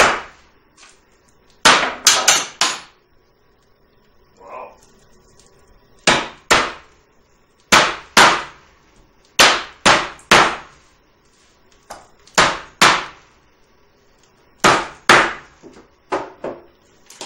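Hard chaga mushroom chunks are ground in short pulses, each burst a loud, sharp clatter of pieces rattling against the container, coming in clusters of two to four with quiet pauses between.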